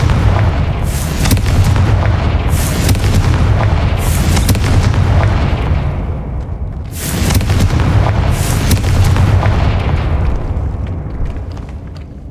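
Repeated loud, booming fire-spell explosions in the Hogwarts Legacy video game come in rolling blasts every couple of seconds over a continuous dense rumble.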